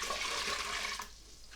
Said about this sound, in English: Now there's a pint of hot water.